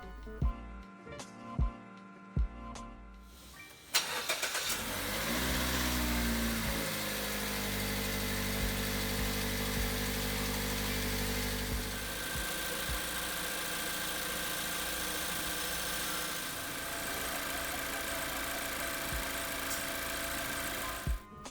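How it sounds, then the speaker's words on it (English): A Mazda 2 (DJ) Skyactiv petrol engine, just refilled after an oil change, cranks and catches after a few clicks, then settles into a steady, close, even idle hum that continues alone. "Close the engine oil cap and start the engine."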